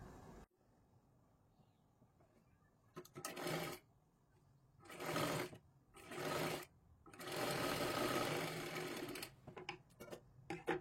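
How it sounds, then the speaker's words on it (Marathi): A sewing machine stitches a cross strip on a blouse in several bursts, starting and stopping, loud and close, with quiet pauses between runs. "आता इथे पूर्ण आपल्याला शिलाई मारून घ्यायची आहे."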